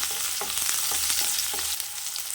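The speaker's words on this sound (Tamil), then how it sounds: "வெங்காயம் நல்லா வதங்கட்டும்." Small onions sauté in a pan for potato kurma, giving a continuous close sizzle broken by a few soft stirring scrapes.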